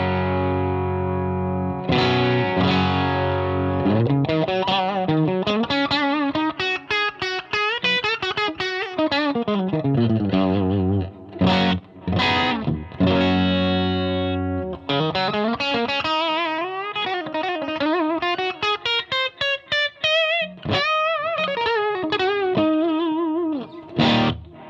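Electric guitar through a Marshall Studio Vintage 20 head, a small Plexi-style amp, played on its basic tone: a sustained, slightly driven melodic line of held notes and bends, loud and alone.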